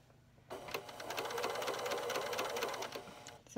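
A sewing machine runs steadily, stitching fabric for a headband-style travel sleep mask; a close, continuous mechanical whir with rapid needle clatter starts after a brief pause and holds for about three seconds before stopping.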